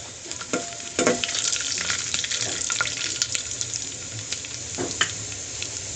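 Mustard seeds, green chillies and cumin tempering in hot oil for rasam, a steady close sizzle with sharp pops and crackles scattered throughout, no voices.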